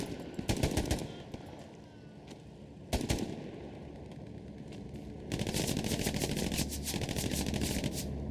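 Infantry gunfire in Hell Let Loose, a bogged-down fight on both sides: dense bursts of automatic and rifle fire crackle in clusters, a sharp volley near the start and another mid-way, then heavier sustained shooting in the last few seconds, with no talk.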